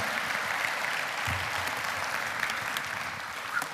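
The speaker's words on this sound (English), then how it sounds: "give her a round of applause" A church congregation claps steadily throughout, a dense, even wash of applause with no voices standing out.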